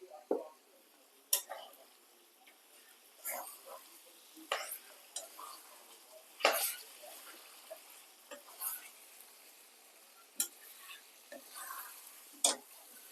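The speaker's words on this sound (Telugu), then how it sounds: "కొంచెము అల్లం వెల్లుల్లి పేస్ట్ వేసాం కదా, ఆయిల్లో కొద్దిసేపు మగ్గిస్తే స్మెల్ ఉండదు" Ginger garlic paste with turmeric sizzles softly in hot oil for aloo kurma, with a spoon scraping and clinking against the pan in irregular strokes every second or two.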